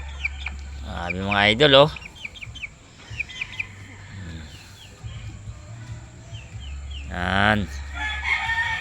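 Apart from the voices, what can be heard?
Pure White Hatch gamefowl chickens clucking and rooster crowing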